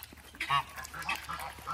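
A duck gives a few short, nasal honking calls at close range on a farm animal sanctuary, a couple of bursts spaced across a quiet background.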